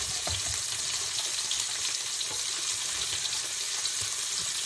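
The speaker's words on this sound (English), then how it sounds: "next in the bacon grease goes my onions, my chopped onion. I'm just going to fry them till they begin to turn translucent" Chopped onions fry in bacon grease with a dense, even sizzle that holds steady and close throughout, with no voices.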